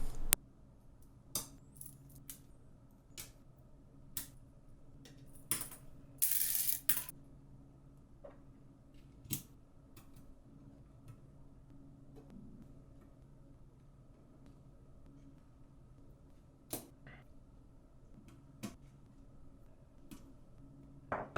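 Keys of a mechanical keyboard fitted with Zeal V2 stabilizers are pressed one at a time in a quiet room, sparse sharp clacks spaced a second or two apart, with one brief rattling burst near the start.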